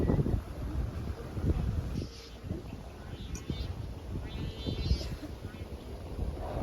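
Strong gusting wind buffets the microphone in a continuous low roar with rushing surges outdoors during a test flight, and voices speak intermittently over it.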